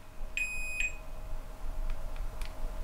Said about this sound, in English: let's beep it out and make sure that this worked properly